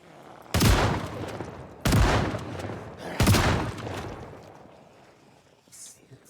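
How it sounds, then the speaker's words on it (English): A pump shotgun fires three heavy, booming blasts about a second and a half apart, each shot followed by a short decay, with a faint click near the end. "Is this like an infinite, like, firing shotgun? No, he's pumping it every time."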